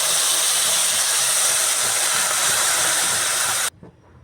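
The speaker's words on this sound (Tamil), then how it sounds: "இது 2த்துக்கும் சேர்த்து 4 கப் தண்ணி ஊற்றுறேன்." A steady, loud rush of four cups of water pouring into a hot pot holding toor dal, hissing continuously for several seconds before cutting off abruptly.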